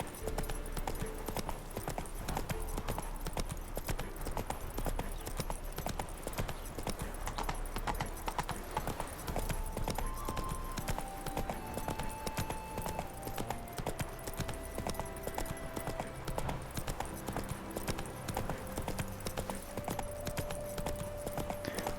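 Hooves of Geralt's horse Roach clip-clop in a steady trotting rhythm in The Witcher 3, close and continuous over game music, with a brief spoken voice.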